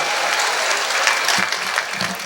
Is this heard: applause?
yes